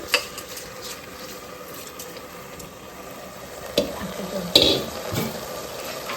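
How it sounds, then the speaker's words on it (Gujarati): Cooked rice tumbles into a pan of sizzling vegetables and is stirred, a steady frying hiss broken by a few sharp scrapes and clinks of the spoon against the pan. "હવે ભાત નાખી દેવાના છું"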